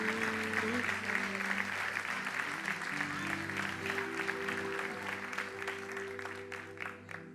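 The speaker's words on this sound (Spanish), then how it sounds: "Dê forte aplauso ao Rei." A church congregation applauds steadily during a worship service, the clapping continuing under sustained music and a voice speaking.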